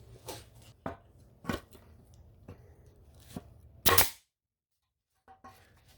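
A nail removal tool yanks old nails out of wood, giving a handful of sharp, irregular snaps and pops with a loud crack near the end, followed by near silence and a couple of faint knocks.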